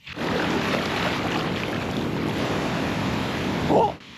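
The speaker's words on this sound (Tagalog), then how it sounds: "Lumakas ang alon." Ocean waves rush in a continuous, broad roar on an island beach with wind buffeting the microphone, swelling slightly near the end before cutting off.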